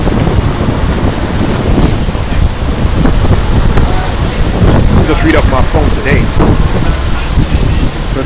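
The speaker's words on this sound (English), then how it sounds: "It's so nasty and windy." Strong wind buffets the microphone nonstop with heavy, rumbling gusts throughout, while someone talks underneath the roar.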